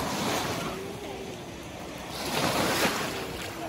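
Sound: ocean waves on beach

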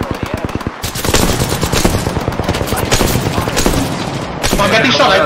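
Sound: gunfire in a battle royale video game

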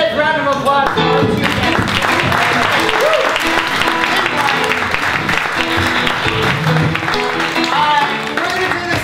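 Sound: audience applause at improv theater show

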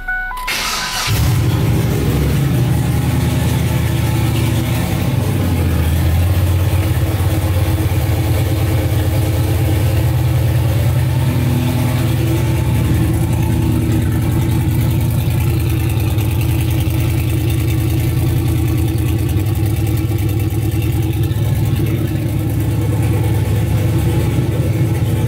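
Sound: car engine starting and running

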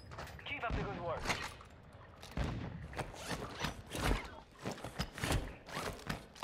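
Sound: gunfire in Warzone 2 video game

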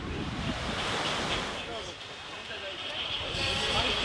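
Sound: ocean surf waves at Yangyang surfing contest

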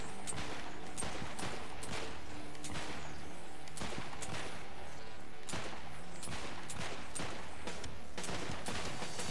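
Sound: gunfire in video game Saints Row 4

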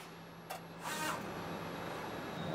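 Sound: MILARA TouchPrint PCB stencil printer squeegees printing

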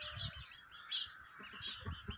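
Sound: Sussex rooster and chickens in a poultry yard

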